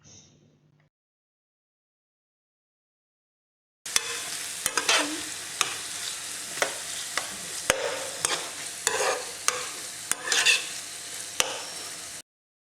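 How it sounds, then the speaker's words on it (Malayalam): Chicken for chicken macaroni frying and being stirred in a pan, a steady sizzle broken by repeated sharp scrapes and clacks of a spoon, close and loud, after a short quiet start. "ചിക്കൻ ഒരു 10-15 മിനിറ്റ് ഇത് കിടന്ന് വേവണം."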